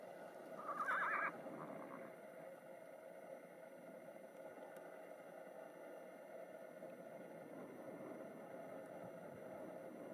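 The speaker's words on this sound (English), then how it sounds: "we've come across one of our bigger bands of wild horses" A horse from a large band of wild horses in Sand Wash Basin lets out one short, faint whinny near the start, followed by quiet open-range ambience.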